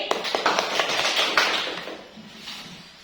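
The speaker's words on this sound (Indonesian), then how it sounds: "Ya, tepuk tangan untuk Esti." A classroom of students applauds one student, a burst of many hands clapping close by that is loud at first, then thins out and fades over a few seconds.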